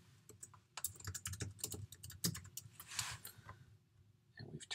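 Computer keyboard typing, a steady run of quick clicks and key taps close by, with faint low room hum underneath and a short pause before the tapping resumes near the end.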